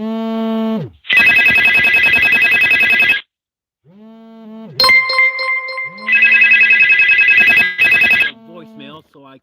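A phone's electronic ringtone for an incoming call plays loud and close in repeated bursts with short gaps between them, and no one speaks over it.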